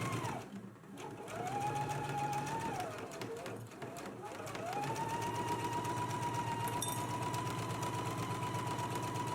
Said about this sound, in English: let's go ahead and stitch the neckline edge as well as the armholes using a 5/8 of an inch seam allowance